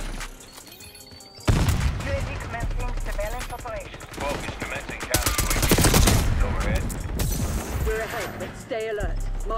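Gunfire rattles in the Black Ops 6 video game, loud rapid bursts and automatic volleys that stack into a dense barrage, with voices talking over the shooting.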